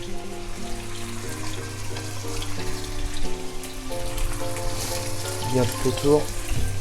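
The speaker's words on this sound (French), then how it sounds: "L'huile est bien chaude. Hop, on pose des petits morceaux." Small pork pieces dropped into hot olive oil in a wok set up a steady, close sizzle that runs throughout, with a few brief spoken words over it.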